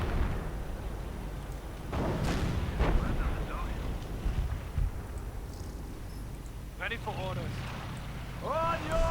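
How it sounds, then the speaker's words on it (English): Booming artillery blasts from a sector artillery strike in a World War II strategy game, heavy rumbling explosions rolling under continuous battle noise, with a voice commentating over it. "Looks like there's some sector artillery getting called in."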